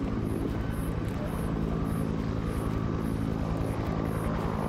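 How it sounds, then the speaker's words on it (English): Helicopter flying overhead in a scary video game, a loud, steady rotor drone with a rhythmic chopping pulse that continues throughout without letting up. "This loud-ass helicopter above me."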